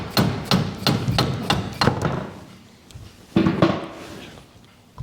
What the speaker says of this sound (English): just get a hammer and go whack